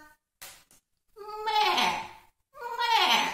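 A human voice imitates a goat's bleat: two drawn-out, wavering bleats, the second after a short pause, preceded by a few soft brief sounds.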